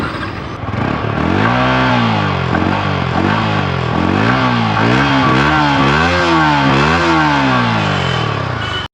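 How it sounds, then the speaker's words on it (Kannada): Yamaha R15 V4 sports motorcycle revved repeatedly up close, its exhaust note rising and falling in a steady series of loud throttle blips over a constant idle, with no talking. "ಒಂದ್ಸರಿ ಗಾಡಿ ಎಕ್ಸಾಸ್ಟ್ ನೋಟ್ ಕಾರಣ ಬನ್ನಿ."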